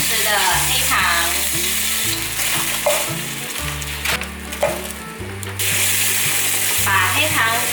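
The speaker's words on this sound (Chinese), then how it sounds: "把黑糖炒出糖色" Brown sugar and soy sauce stir-fried in hot oil in a wok give a steady, close sizzle with occasional scraping stirs, over soft background music.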